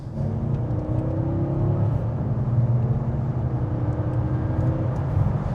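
A Mercedes GL 550 engine revving under quick throttle, a loud, close, steady rumble with rising whirring tones and no talk over it.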